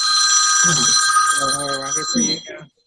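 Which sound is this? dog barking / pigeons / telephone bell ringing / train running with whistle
telephone bell ringing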